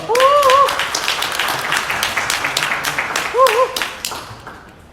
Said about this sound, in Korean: 팀장님 여러분 큰 박수로 맞이해 주시기 바랍니다